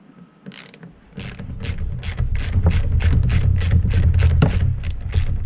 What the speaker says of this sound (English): 17mm wrench and loosen up that dust cap